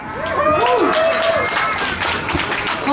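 An audience claps in a gallery at a comic con, with busy scattered hand claps under a voice speaking loudly nearby.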